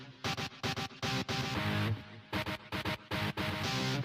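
A single chopped hit sample, pitched to follow power chords in MTV Music Generator, fires as a stuttering series of short, punchy stabs with brief gaps between them, varying in length and quite faint.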